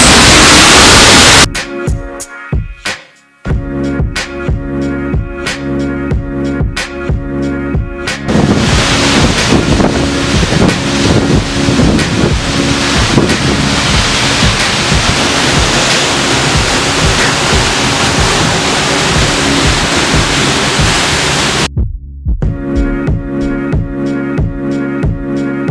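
A lesser-known waterfall in Iceland roars as a loud, steady broadband rush, heavy wind buffeting the microphone at the start and end.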